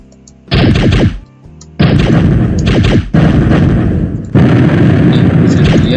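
In a Greenfoot space shooter video game, loud booming explosion effects fire in four separate bursts, each a sharp blast with a short decaying tail, close and punchy with brief gaps between them and no talking.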